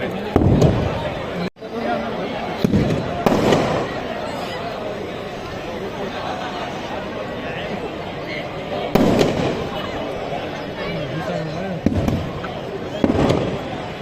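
Firecrackers burst loudly and repeatedly at a Ravan Dahan effigy-burning celebration in Nakhatrana, sharp cracks rising above a steady crowd murmur throughout.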